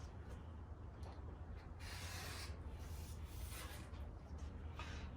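Quilting fabric is sliced in two with a steady, close rasping rub that runs unbroken, swelling into brighter scraping passes midway, with no voices.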